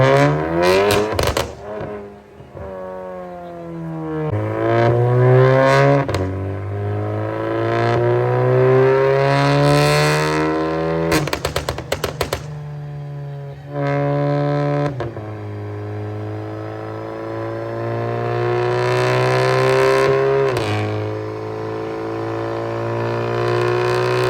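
An Audi A3 with a big turbo revs hard on a dynamometer, climbing through gears in long rising sweeps, each shift dropping the pitch before it rises again, loud and close.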